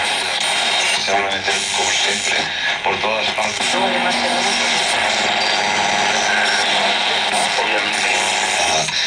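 A Philips radio tuned to an AM broadcast plays a station's voices and music through a constant loud wash of static and hiss, with the tuning wavering partway through.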